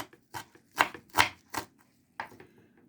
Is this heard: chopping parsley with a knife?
yes